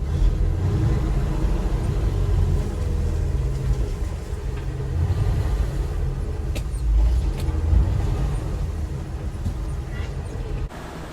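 A Yanmar SA325 compact tractor eases forward with its PTO off, its engine giving a steady, close, low rumble for about ten seconds before the sound cuts off abruptly.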